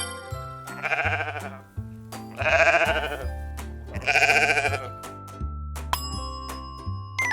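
A sheep bleats three times in a row, wavering and fairly close, over a tinkling bell-like music jingle.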